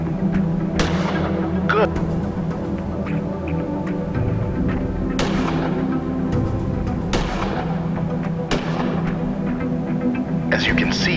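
Gunshots fire at intervals in the video game Gemini Rue, each a sharp crack with a short decaying tail over a steady low hum, and a voice speaks briefly between them.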